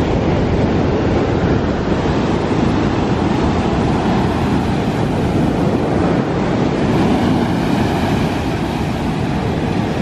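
Big waves rolling in and breaking on the shore at Alanya, Turkey, on an overcast day, a continuous loud broadband surf roar with steady wash and no voices.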